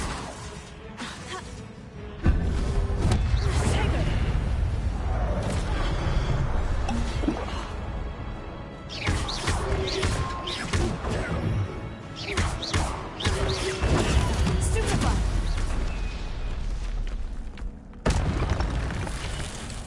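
Incendio fire spell cast in Hogwarts Legacy, heavy booming magical blasts and thuds recurring across the stretch with roaring bursts between quieter gaps.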